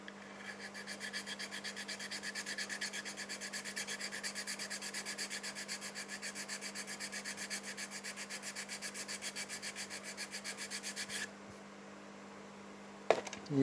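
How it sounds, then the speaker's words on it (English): A sanding block rubs back and forth over excess wooden dowels in rapid, even rasping strokes, close and continuous for about eleven seconds before stopping, followed by a faint hum and a brief knock. "Now we can take our sanding block and sand off the excess dowels."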